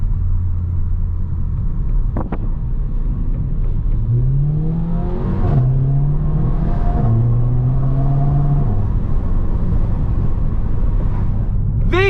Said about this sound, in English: The car sounds monstrosity! It sounds beautiful now.